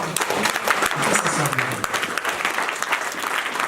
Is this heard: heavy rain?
no